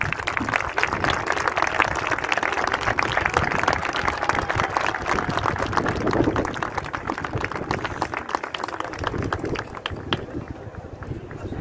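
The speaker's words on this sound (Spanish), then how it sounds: "Fuerte ese aplauso." Audience applause at a city ceremony where the key to the city is presented, a dense, steady wash of clapping lasting throughout and fading slightly toward the end.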